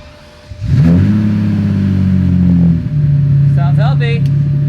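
A Lamborghini Diablo 6.0 engine cranks and fires into a loud, steady idle that drops to a lower settled idle, with a short burst of voices over it near the end.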